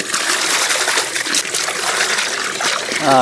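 Water pours and trickles into a clay pot to wash greens, a steady close splashing and dribbling stream with no voices over it.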